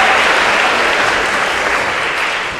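Dense, steady applause from a school assembly audience, close and continuous for a few seconds with no talk over it.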